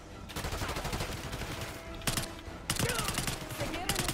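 PP9 submachine gun firing in Black Ops 6, loud rapid bursts in several sustained volleys with short pauses between them, close and dense.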